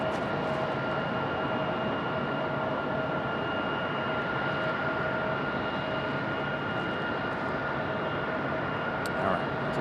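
A Delta airliner departing Raleigh Durham airport gives off a steady, loud jet engine roar with a high whine, heard continuously from nearby.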